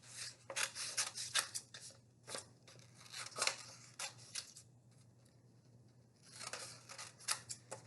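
Scissors snip repeatedly through paper while a flag craft is cut out by hand, with bursts of crisp close cuts, a brief pause midway and then more snipping, set over a steady low hum.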